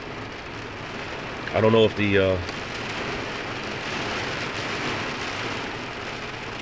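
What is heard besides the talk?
loud rain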